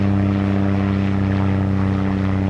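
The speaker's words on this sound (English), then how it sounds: "We've got planes flying over," Propeller planes fly over a wildfire in Myrtle Beach, South Carolina, dropping water; their engines make a loud, steady, droning hum that holds close and constant throughout, with no talking.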